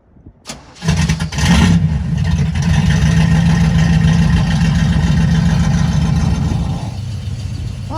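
A 1970 Buick Gran Sport with a 350 engine starts with a sharp crank and catch, then its exhaust revs briefly and settles into a loud, steady rumbling idle up close.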